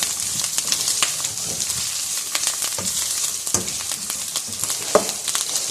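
Boiled beef pieces fry in a hot pan for a Pakistani-style beef masala, a steady close sizzle with scattered crackles and occasional stirring scrapes throughout.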